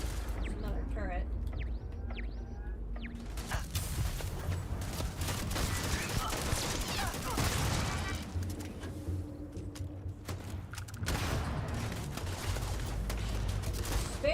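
Turret gunfire rattles through a battle in the video game Starfield, dense bursts and booms coming in waves over a rumbling game soundtrack, with a voice talking intermittently on top.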